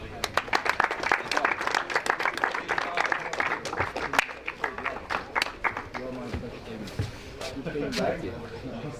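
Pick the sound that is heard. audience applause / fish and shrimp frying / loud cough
audience applause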